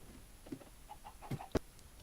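A chicken in the video game Minecraft gives a few soft, short clucks, quiet and spaced out, ending in one sharper cluck, with no talking.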